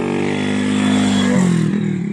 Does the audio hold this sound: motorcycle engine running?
yes